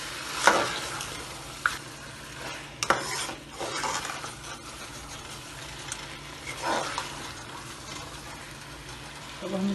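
Chicken sautéing in a pot for deghi chicken biryani gives a steady sizzle, broken by several sharp scrapes and clinks of a spoon stirring against the metal. No one speaks over it.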